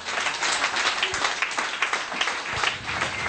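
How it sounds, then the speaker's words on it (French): A church congregation breaks into sustained applause, dense overlapping claps filling the room at a steady level for the whole stretch, with no voices standing out. "Applaudissez Jésus"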